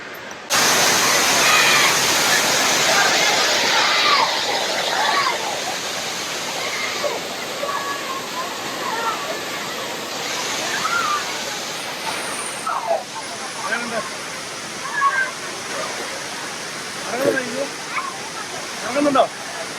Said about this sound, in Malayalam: അതേ വെള്ളച്ചാട്ടം കണ്ടോ? അടിപൊളിയാ കേട്ടോ.